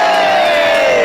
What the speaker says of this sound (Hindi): क्यों ताली बजा रहे हो?